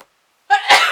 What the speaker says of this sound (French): et je vais éternuer à chaque fois.